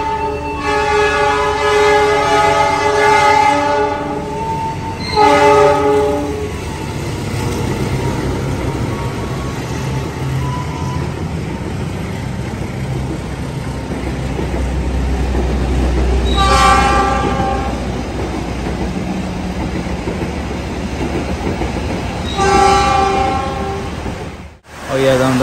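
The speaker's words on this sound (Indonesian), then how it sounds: "kereta api Jayabaya berjalan langsung." The Jayabaya passenger train in Indonesia rumbles past close by, sounding its horn in several blasts, with a loud low roar building in the middle.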